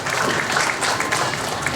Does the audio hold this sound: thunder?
no